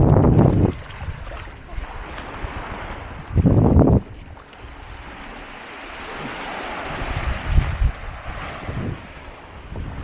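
Surf washes steadily on a beach at Gili Air, Indonesia, under strong wind buffeting the microphone, with a couple of loud low gusts breaking through; no one speaks.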